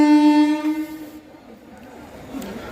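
A train's horn blares loud and steady for about a second, then gives way to a lower rumble of the train rolling past.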